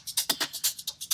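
Two shaker loops layered together, one set back in the mix with a light phaser: a steady run of bright, crisp shakes, about seven in just over a second, in an even rhythm.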